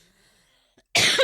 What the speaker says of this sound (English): You're going to have to edit out so much coughing.